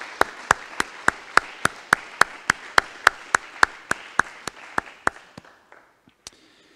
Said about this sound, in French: Je pense qu'on peut tous les applaudir aussi et leur souhaiter bon courage.